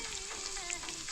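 Chopped onions sizzling in a pan while cooking Maggie noodles, a brief, steady crackling fry with faint spitting pops, heard close and alone.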